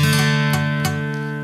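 A pick strums a guitar chord across the top four strings while a finger mutes one string. A few quick strums blend into one sustained, ringing chord.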